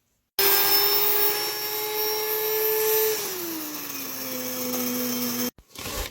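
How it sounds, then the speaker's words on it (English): An electric grain mill grinds wheat berries into flour, a loud steady motor whine that drops in pitch as the load increases midway, then cuts off abruptly, with no talking. "I've got my wheat berries and we're going to grind them"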